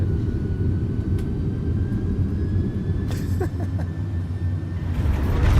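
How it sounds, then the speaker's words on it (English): MD-11 airliner engines during landing in a flight simulator game, a loud continuous broadband roar and rumble with a faint steady whine above it, without speech. "Listen to the engines try to save it."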